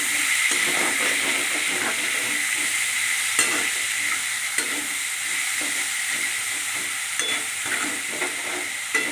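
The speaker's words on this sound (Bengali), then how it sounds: "পেঁয়াজ কুচিগুলো দিয়ে ভালো করে ভাজতে হবে।" Chopped onions frying in oil, a steady broadband sizzle that runs the whole time with occasional stirring knocks, close and fairly loud, with no talking.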